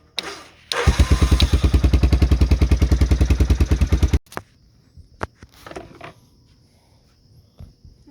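The engine of a 1988 Honda Foreman 350 ATV chugs in a loud, steady, rapid pulse for about three seconds, cuts out abruptly, and is followed by faint clatter and rustling.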